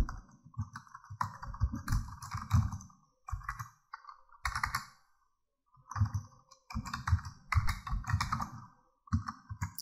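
Fingers type an email address on a computer keyboard in short bursts of close, crisp key clicks, broken by brief pauses, with no talking.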